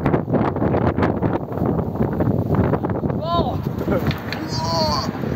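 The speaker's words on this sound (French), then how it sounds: "il y a vraiment beaucoup de vent aujourd'hui" Strong wind buffets a handheld microphone outdoors near Lille and Baisieux, a steady loud roar and rumble that runs through the whole clip beneath French voices.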